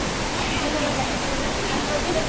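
Steady, dense rush of clear mountain spring water flowing at a hot springs resort in Naga City, Philippines, a constant close wash of noise with no breaks.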